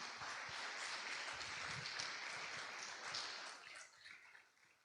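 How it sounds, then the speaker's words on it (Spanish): A church congregation applauding during a sermon, a broad wash of many hands clapping at a distance, fairly faint, tapering off toward the end. "Dele un aplauso al Señor, hermano"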